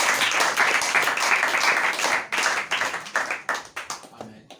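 A church congregation at a Christian seminary in Matadi claps and cheers for Brother Israël, dense loud applause that breaks into scattered, thinning claps toward the end.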